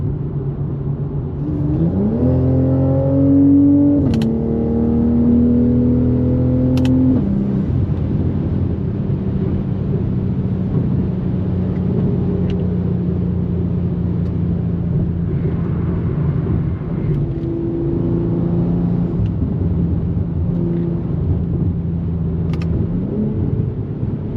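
A 2025 BMW M340i engine revs hard while driving, rising to a loud, deep drone that holds and then settles into a steady rumble, with no voices heard.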